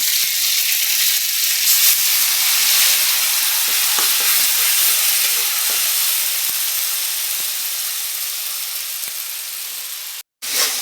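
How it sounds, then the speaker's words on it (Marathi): Ground masala of onion, tomato, coriander, garlic and coconut sizzles steadily in hot oil in a pan, a continuous close frying hiss with faint stirring scrapes, cutting off abruptly near the end. "मी हा मसाला छान असं तेल सुटेपर्यंत परतून घेतलाय"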